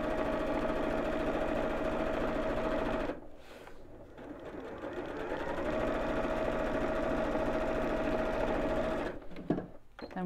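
A sewing machine runs steadily, stitching the top and bottom seams of a fabric messenger bag, with a brief pause near the middle before the motor picks up again and a few clicks at the end.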